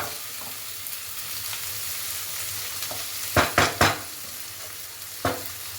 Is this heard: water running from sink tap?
no